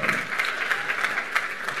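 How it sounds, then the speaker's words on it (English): A convention crowd gives a short burst of steady applause for men up on stage, a dense, even patter of many hands lasting under two seconds. "a round of applause for these brave men"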